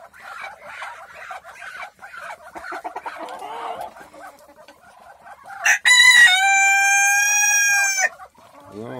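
A rooster crows loudly and at length, joined by ducks and other farm fowl in a noisy chorus, with some clucking and quacking before the long crow near the end.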